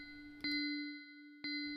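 A bell tone from a Korg Kronos drum track rings twice, about a second apart on beats 2 and 4, each strike sustaining a clear, steady pitch.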